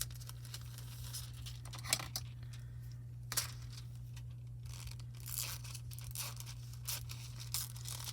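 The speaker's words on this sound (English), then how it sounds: "I'm going to cut some more of this rainbow foil because I think it's gorgeous" Scissors cutting a sheet of rainbow hot foil, soft crinkling and snipping sounds in short irregular bursts, quiet and close over a low steady hum.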